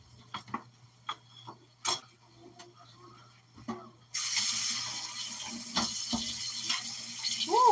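Hot water runs steadily from a kitchen tap into a bowl being rinsed, a loud continuous rush that begins partway through after a few soft clicks and handling noises, with a brief voice near the end.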